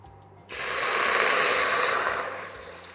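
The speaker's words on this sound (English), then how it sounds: "so we're gonna add some water first." Water pours steadily into a cooking pot for a Trinidad-style fish broth, a loud broad hiss that starts abruptly and runs on without talk.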